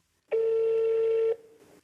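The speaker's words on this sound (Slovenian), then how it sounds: "Telefon danes sicer zvoni v prazno." A single steady electronic telephone tone sounds for about a second, loud and clean, as an unanswered call rings out.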